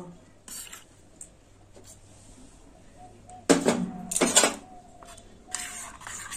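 Black and white mustard paste is stirred with a little water in a bowl, with faint soft scraping followed by louder bursts of a spoon rubbing and clinking against the dish, close by and with no talking.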